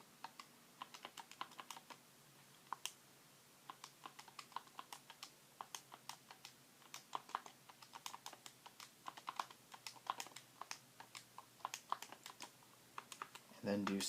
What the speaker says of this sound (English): So I'm going to type in the data.